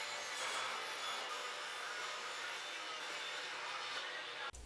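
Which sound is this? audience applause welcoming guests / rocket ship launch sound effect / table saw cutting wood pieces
table saw cutting wood pieces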